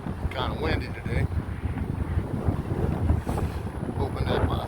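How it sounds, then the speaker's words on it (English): Gusty wind buffets the microphone beside a river, producing a loud rumbling roar with surging, uneven bursts, while a person talks intermittently underneath. "Kind of windy today."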